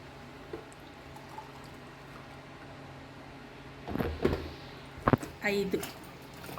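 Hot water is poured into rice for Bengali-style tehri, quiet background at first, then a few short splashing bursts and gurgles of liquid near the end, close by, with no talk over it.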